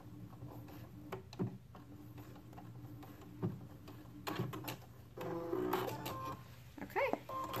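A sewing machine stitches a pair of Moxie shorts, its soft mechanical whir and faint ticking clicks rising most clearly in a short run near the end, fairly quiet against the room.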